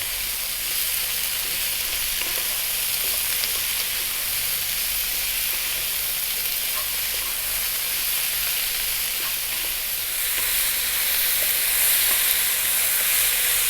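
Sweet corn sizzles and fries steadily in a hot pan, a continuous close hiss with faint stirring scrapes, growing slightly louder near the end, with no voices.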